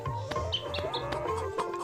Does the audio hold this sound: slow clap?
no